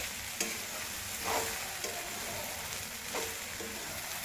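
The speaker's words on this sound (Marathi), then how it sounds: "आता हलवून घ्यायचं होतं." Khichdi being stirred in a pan, with a steady soft sizzle and a few scraping strokes of a spoon at intervals, close and moderately quiet, no voices.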